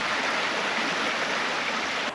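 Steady broadband rush of a river flowing close by at a riverside planting spot in Ecuador, continuous and fairly loud with no voices over it.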